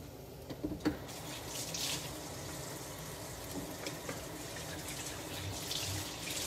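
Water running from a kitchen tap while hands are rinsed, a soft steady stream with faint splashes, quiet and uninterrupted.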